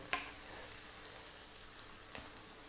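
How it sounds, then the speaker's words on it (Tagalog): Ground beef sautés in a pan for Filipino meat-sauce spaghetti, a faint, continuous crackling sizzle with two small knocks from stirring. "Add na natin yung ating ground beef. So this time, gigisahin ko po siya ng mga 5 minutes"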